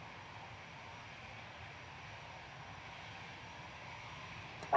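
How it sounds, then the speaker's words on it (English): An Iberia Airbus A320 arriving from Madrid at Manchester Airport gives a faint, distant, steady engine drone, ending in a short, sharp noise. "Iberia 1891 coming in from Madrid there. A320 Classic."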